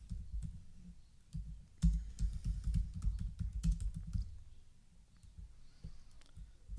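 Computer keyboard keys clicking in irregular bursts of close, fairly quiet typing with brief pauses between runs, no talking.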